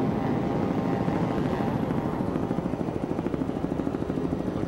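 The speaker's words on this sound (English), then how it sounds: "Looking back now, out of our Provene helicopter, pilot Coit Bailey doing a great job helping" Steady, loud rotor thump and turbine roar of a camera helicopter flying over a 2006 offshore powerboat world championship race, the rhythmic blade chop continuous throughout with no talk.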